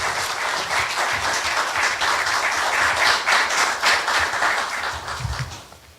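A university forum audience applauds steadily and densely for a welcoming president, a sustained wash of many hands clapping that fades out at the close.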